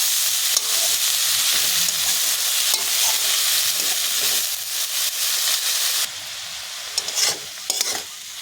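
Chopped dhenki fern greens being stirred with fried prawns in a pan, a steady loud sizzle with scraping spatula strokes throughout, easing slightly toward the end with a few sharper scrapes.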